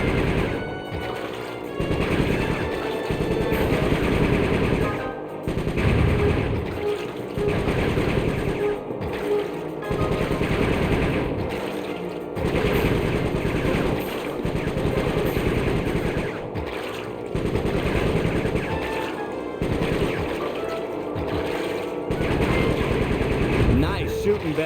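Rapid machine-gun bursts and gunshots in the video game Sly 3, loud and repeated in clusters with brief pauses, mixed with in-game voices talking over the firing.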